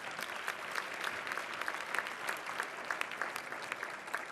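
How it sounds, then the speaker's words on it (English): An audience at a bar association installation ceremony applauds an 11-year-old girl's community service award. Even, sustained clapping runs the whole time at moderate distance. "So please give her a big round of applause."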